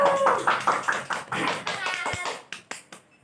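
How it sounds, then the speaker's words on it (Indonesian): A classroom of young pupils claps rhythmically for a classmate called to the front, a patterned burst of hand claps with some children's voices mixed in, ending in a few separate sharp claps. "Ya, tepuk tangan dulu untuk Ajeng."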